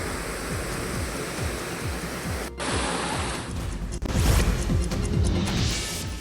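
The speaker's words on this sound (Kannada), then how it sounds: "ಬೆಳಗಾವಿಯಲ್ಲಿ ಸುರಿದ ಧಾರಾಕಾರ ಮಳೆಗೆ ಬೈಲಹೊಂಗಲ ತಾಲೂಕಿನ ಶ್ರೀ ಕ್ಷೇತ್ರ ಸೋಕಲತಲಿ ಜಲಪಾತಗಳ ವೈಭವ ಕಣ್ಮನ ಸೆಳೀತಾ ಇದೆ." Waterfalls at Sri Kshetra Sogal in Bailhongal taluk, Belagavi, swollen after torrential rain, give a loud continuous roar of rushing water with a few abrupt breaks and surges, no voices.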